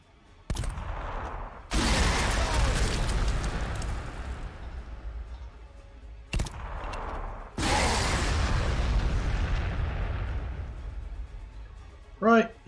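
Frag grenade blasts in Warhammer 40,000: Sanctus Reach boom loudly twice, each followed by a long rumbling debris tail, with short sharp cracks before them and a brief voice at the end.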